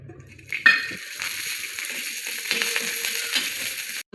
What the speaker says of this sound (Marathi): तर ह्याच तव्यावर आपण लसूण आणि आले पण चांगलं परतून घेणार आहोत.